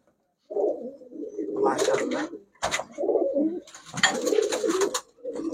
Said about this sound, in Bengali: এটা হচ্ছে দর্শক নর কবুতর।